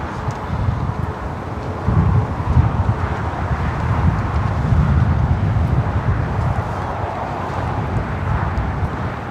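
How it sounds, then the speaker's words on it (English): Steady gusting wind blows outdoors at LAX airport, a continuous low rushing roar that swells and eases slightly without pause, fairly loud and alone with no talk. "It's like the wind kind of stops for like a second."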